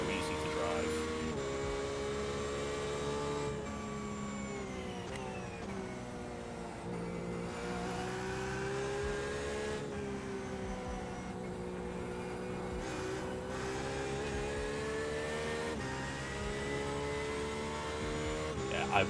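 A racing car's engine drones steadily as it is driven around a track, its pitch rising and falling through gear changes, heard fairly quietly as if from inside, with voices faintly underneath.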